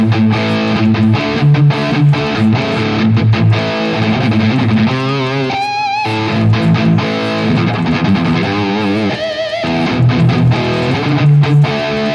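Electric guitar through a Bugera G5 Infinium amp with the gain set high, heavily distorted chords and riffs played continuously and loud, with sustained notes and some bends, no talking.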